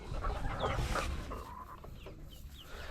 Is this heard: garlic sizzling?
no